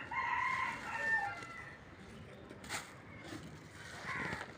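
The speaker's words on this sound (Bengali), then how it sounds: "এখানে মুরগি আছে," Chickens and a rooster at a weekly market, with a rooster crowing and clucking hens at moderate distance, faint against background bustle and brief murmurs.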